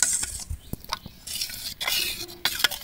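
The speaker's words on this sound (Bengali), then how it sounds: "প্রত্যেকবার দেওয়ার আগে ব্যাটারটাকে এইভাবে একটু গুলিয়ে নিতে হবে" Palm-fruit batter being stirred in a bowl before pouring on a tawa, with soft scraping strokes and a few sharp utensil clinks against the bowl, close and fairly quiet.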